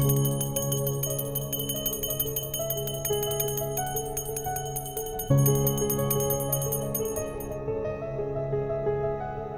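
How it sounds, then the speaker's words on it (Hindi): A bell rings late at night in a home in a Hindi TV drama, ringing steadily with bright tonal overtones, restruck midway and ringing on, with no voices. "इतनी रात गए, ये घंटी क्यों बजा रही हो तुम?"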